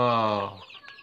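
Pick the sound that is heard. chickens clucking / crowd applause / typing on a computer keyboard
chickens clucking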